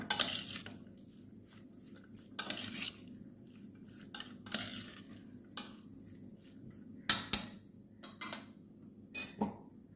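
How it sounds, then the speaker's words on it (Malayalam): Beef and chopped masala are mixed in a pan, heard as a series of sharp spoon-against-pan scrapes and clatters in irregular bursts, with quiet gaps and a faint sizzle between strokes. "ബീഫ് മസാല വെട്ടി വെച്ചത് പതിനഞ്ച് മിനിറ്റ് കഴിഞ്ഞിട്ടുണ്ട് അതും കൂടെ ഞാൻ ഇട്ട് കൊടുക്കുകയാണ് നമുക്കിത് നന്നായിട്ടൊന്ന് മിക്സ് ചെയ്യാം"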